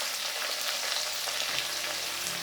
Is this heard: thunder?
no